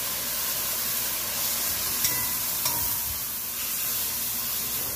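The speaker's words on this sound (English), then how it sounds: "I'm gonna add some coconut milk in there now." Coconut milk poured into a hot cooking pot and stirred for a patchoi salad, giving a steady close sizzle and hiss with a couple of faint scrapes of the spoon and no voices.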